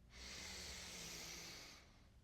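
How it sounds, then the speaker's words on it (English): A single slow, soft yogic breathing inhale through the nose, a breathy hiss rising and holding for about two seconds before easing off, close and quiet. "So we inhale and roll our shoulders back."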